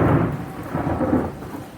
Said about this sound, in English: I was going to say scene, and then there was the crack of thunder.